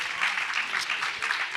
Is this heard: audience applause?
yes